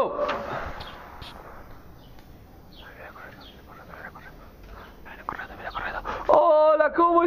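A dog whimpers and yips nearby while people talk over it, ending with a burst of excited high-pitched sounds.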